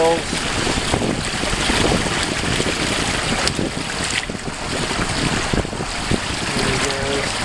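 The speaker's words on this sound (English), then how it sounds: "Hear the wind, hear the sails." Hobie 16 catamaran sailing on the Indian River, with steady roaring wind buffeting the microphone, sails flapping and water rushing throughout, loud and constant with occasional gusty swells.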